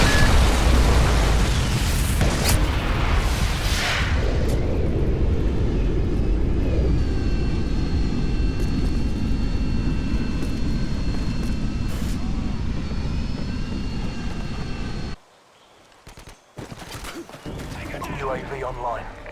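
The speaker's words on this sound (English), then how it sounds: "Friendly Harriers inbound." Friendly Harrier jets roar in for an airstrike in a modern military shooter game, a loud sustained jet and engine rush with booming blasts underneath, continuing for about fifteen seconds before cutting off abruptly into quieter, scattered thumps.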